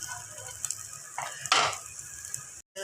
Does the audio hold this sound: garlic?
yes